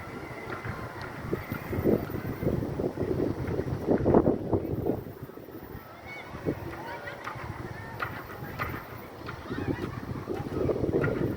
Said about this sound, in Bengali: প্রচণ্ড বাতাস, অন্ধকারে নেমে আসছে।